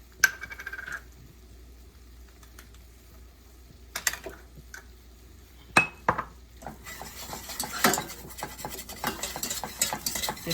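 Flour roux being stirred in a pan, with clinks and scrapes of a utensil against the metal, sparse at first and then busier, with a soft bubbling hiss underneath and no talking.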